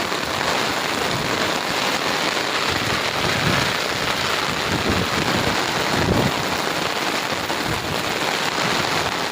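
Steady, dense heavy rain pours down without a break, a loud broadband wash with occasional heavier gusts and spatters, no voices.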